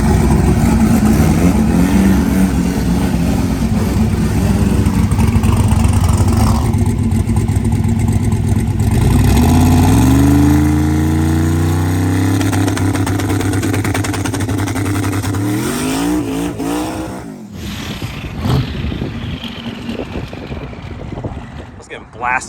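A twin-turbo big-block Chevy Nova roars loud and close, its engine revving in rising sweeps and pulling away, with heavy rumble and gusts of wind buffeting the microphone throughout.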